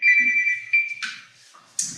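A mobile phone ringtone sounds during a city council closed meeting, a steady electronic tone that breaks off and shifts, fairly loud and alone without talk.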